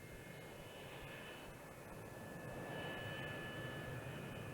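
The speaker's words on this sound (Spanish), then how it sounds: "Este es el YB-49 de 8 motores en bloque." Northrop YB-49 eight-engine flying wing jet aircraft, a steady, loud jet engine roar with a constant whine that swells slightly toward the end, with no voices.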